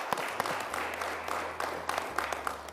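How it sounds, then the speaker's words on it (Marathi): Scattered applause from a studio audience on a business talk show, light and fairly quiet, with a low steady hum running beneath the claps. "मग आम्हाला टाळ्या वाजून तुमचं अभिनंदन करू दे"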